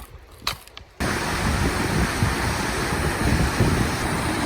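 A river rushes beneath a trail bridge in the Sierra Nevada, a steady, loud broadband roar of moving water that starts abruptly after a brief quieter moment with light handling noise.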